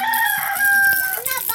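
A native chicken rooster crows loudly and close, one long drawn-out call with a faint cluck underneath and some background noise.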